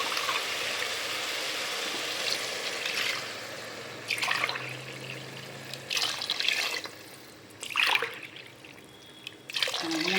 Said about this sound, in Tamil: தண்ணி ஊற்றிட்டுருக்கோம்.